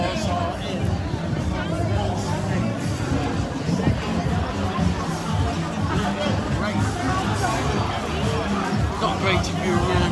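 A dense crowd on the Benidorm seafront, with constant babble of many voices close and far, steady and loud throughout.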